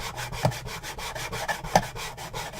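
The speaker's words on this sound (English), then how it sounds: "So you can sand this." Sandpaper rubbing back and forth over a wooden dresser trunk part, a steady run of close, even scratchy strokes with a couple of sharper scrapes, no talking.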